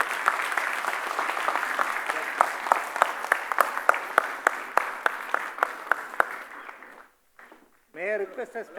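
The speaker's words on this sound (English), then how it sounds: "so big round of applause to everyone" Audience at an ICAI tax event applauds for about seven seconds, a dense wash of hand claps with sharp individual claps standing out, then it stops and a voice begins speaking.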